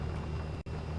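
An armored car engine in the War Thunder video game gives a steady, loud, low rumbling drone with wind-like noise, broken by one very brief dropout.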